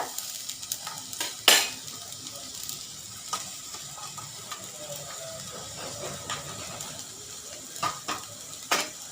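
Chopped onion and cumin sautéing in a pan for a vegetable kurma, a faint steady sizzle broken by occasional spoon clinks and scrapes against the pan.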